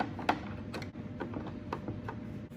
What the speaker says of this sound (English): you're going to go ahead and just secure this in with screws